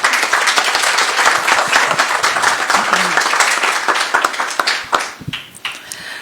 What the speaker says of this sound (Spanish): si nos hacen el honor de brindarle un fuerte aplauso